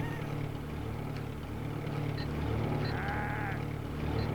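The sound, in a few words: sheep bleating in a video game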